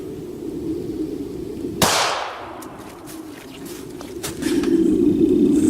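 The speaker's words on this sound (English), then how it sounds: "Okay, here's the Steyr shot." A single sharp gunshot from a Steyr 9mm pistol firing Browning BXP 147 grain ammunition cracks outdoors with a short decaying echo, amid steady background hum and later rustling.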